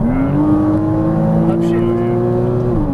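Porsche Cayman S engine accelerating on a race track, a loud, steady rising drone that climbs in pitch and then drops briefly at a shift, with a driving instructor talking over it.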